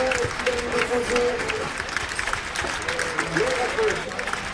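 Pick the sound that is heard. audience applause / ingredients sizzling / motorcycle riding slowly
audience applause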